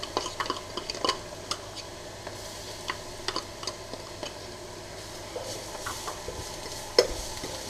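Potatoes with garlic sautéing in a pan over lowered gas, with a soft continuous sizzle and scattered clicks and scrapes of stirring, one sharper knock near the end.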